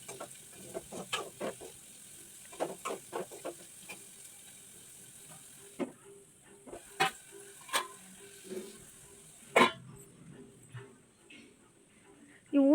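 Onions with mustard seeds, cumin and dry Byadgi chili sizzling in oil in a home kitchen pan, a steady frying hiss broken by repeated sharp stirring scrapes and clinks, close and fairly quiet, with brief bird calls in the background.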